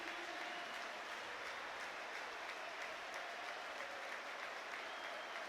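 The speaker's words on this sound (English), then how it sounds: "Warm round of applause for the Hibernian man from his support" Football crowd at a Hibernian versus Falkirk match applauds a substituted Hibernian player, a broad, steady wash of distant clapping from the stands that holds evenly throughout.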